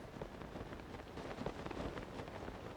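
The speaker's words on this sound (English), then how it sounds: "gunk is raining down. Wait, it's actively raining down?" Gunk rains down in Tears of the Kingdom, a soft, steady patter of falling drops under a faint, continuous wash of noise, with no voices.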